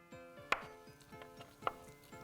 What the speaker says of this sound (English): we're gonna take these slices, stack them, cut them into strips